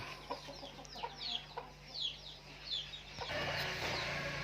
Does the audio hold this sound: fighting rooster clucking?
yes